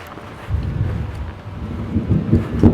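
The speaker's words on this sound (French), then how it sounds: "Ah, le tonnerre gronde." Low thunder rumbling over a forest campsite during a bivouac, a deep continuous roll that swells in waves toward the end, fairly loud with some wind buffeting the microphone.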